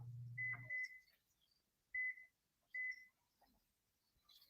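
A few high electronic beeps from a microwave oven: a pair of quick beeps, then two single beeps spaced about a second apart, with a faint hum at the start.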